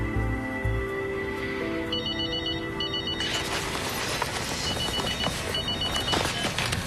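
A telephone bell rings in short, high, trilling bursts indoors, fairly faint beneath a dense, busy background wash that swells louder partway through.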